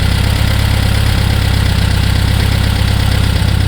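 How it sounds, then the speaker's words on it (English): A second-generation Volkswagen Beetle engine idles close by, a steady low rumble with a regular pulsing beat that holds even for the whole stretch, heard alone without voices. "listen to that engine."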